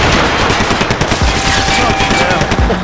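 Max Payne 3 video game gunfire: loud, dense bursts of automatic fire crackle without a break, with faint voices underneath.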